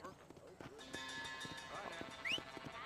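Horse hooves clip-clopping in the Western video game Red Dead Redemption, a quick run of light taps with a brief whinny, mixed under game ambience and a voice.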